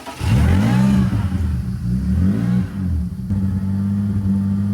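Supercharged BMW E46 engine revving hard nearby, a loud rising and falling drone with strong low harmonics that climbs, dips and settles into a steady high-rpm roar, with no talking.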